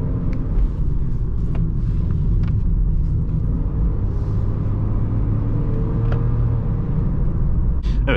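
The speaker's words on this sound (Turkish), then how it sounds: "Şöyle karşıdan araba geliyor." An oncoming car passes on the road, heard from inside a moving Renault Taliant under steady cabin and road rumble, with a soft whoosh as it goes by.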